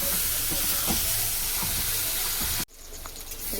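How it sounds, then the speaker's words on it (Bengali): Spice masala with salt fries in hot oil in a pan, giving a steady close broadband sizzle and hiss with faint stirring clatter, which drops abruptly near the end to a quieter, softer simmer. "মশলাটাকে ভালো করে ভেজে নেব।"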